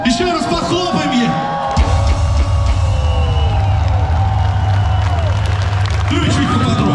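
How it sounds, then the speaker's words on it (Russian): Audience at a live rock show in VK Stadium, Moscow, applauding and cheering, a loud, dense crowd roar of clapping and whoops with a musical drone underneath and band sounds rising near the end. "Еще раз похлопаем ей."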